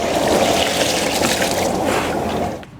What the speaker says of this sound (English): rinse it with clean water